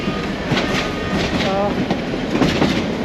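A local train on the Dhaka to Narayanganj line crossing a rail bridge, heard from on board: a steady, loud rumble of wheels and carriages with faint clatter and brief squeals, continuous throughout.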